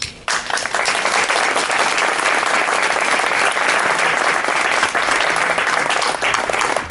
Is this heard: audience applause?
yes